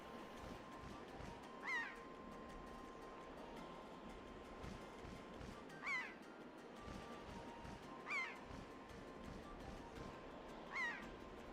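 Birds chasing the player in the video game Wind Waker let out four harsh, widely spaced caws over a low, steady background hum.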